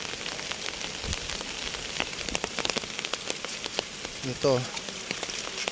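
Rain falls after a typhoon, a soft steady patter of drops on surfaces with scattered sharper ticks, fairly faint, with a brief voice partway through.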